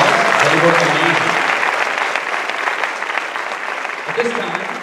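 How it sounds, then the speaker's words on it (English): Sustained applause from an audience at the Miss Harvest Homecoming 2019 pageant, a dense steady roar of many hands clapping that fades a little toward the end, with a voice briefly over it. "Let's give everyone a big round of applause."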